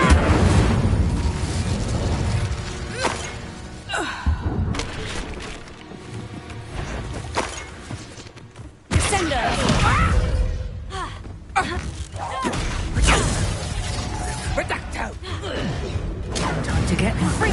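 Fiery spell blasts and booming explosions crackle through combat in Hogwarts Legacy, with repeated bursts and whooshes layered over a dense, loud background of battle noise and music.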